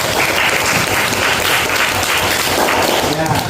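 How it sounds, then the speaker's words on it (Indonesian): Classroom of high school students clapping together in sustained, dense applause filling the room, loud and steady throughout with some voices mixed in. "Kasih tepuk tangan dulu lah."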